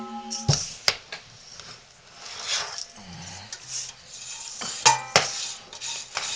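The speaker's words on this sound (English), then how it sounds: "And what we'll do is mix them together." A spoon mixing sugar scrub ingredients in a bowl, gritty scraping and stirring with scattered sharp clinks against the container, close and moderately loud.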